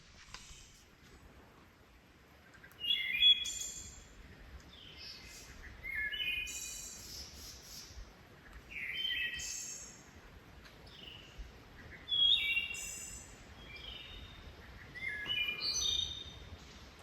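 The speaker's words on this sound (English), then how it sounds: "I'm enjoying the wood thrush serenade." A wood thrush sings in a quiet forest, repeating clear fluting phrases every few seconds with soft pauses between, moderately distant.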